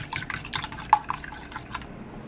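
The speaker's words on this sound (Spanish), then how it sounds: "Ahora lo que le voy a agregar es agua." Water pours from a small cup into a pan of sauce while squid rings are being cooked, a short run of close, quiet splashes and drips.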